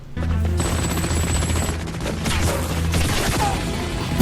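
Rapid bursts of anime gunfire from My Deer Friend Nokotan, a dense volley of loud crackling shots layered over sustained musical tones, continuous for several seconds.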